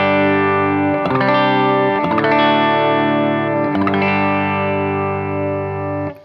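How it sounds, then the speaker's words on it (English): An electric guitar on the bridge Lindy Fralin Modern PAF humbucker of a TMG Gatton plays through a Bloom compressor and Walrus ACS1 amp simulator at edge-of-breakup, with sustained ringing chords struck several times, loud and close. "I'm going through nothing but my Bloom compressor and the ACS1, and I'm using my TMG Gatton with Lindy Fralin Modern PAF"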